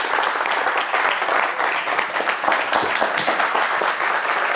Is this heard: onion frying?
no